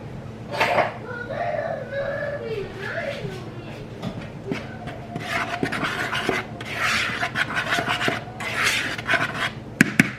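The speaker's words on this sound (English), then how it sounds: "I'm just gonna get another dry spoon and mix it." A spoon stirs and scrapes through dry dough ingredients with salt in a bowl, making a steady gritty rasping that runs almost continuously, with a person talking over it.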